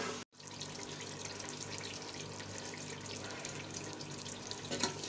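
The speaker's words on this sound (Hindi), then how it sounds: "अब हम इसमें ऐड करेंगे पानी।" Water from a tap runs steadily into a pot of frying vegetables for a chicken vegetable pulao, a continuous close splashing rush lasting several seconds after a brief pause at the start.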